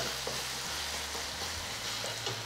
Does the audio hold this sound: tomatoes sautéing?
yes